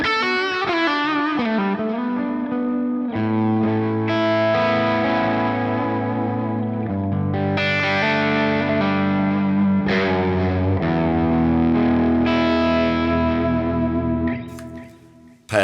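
Low-gain, British-style amp tone from a Line 6 guitar setup with dynamic plate reverb. Sustained electric guitar chords and ringing notes play continuously and loudly, with a lush reverb tail, before a brief fade at the end.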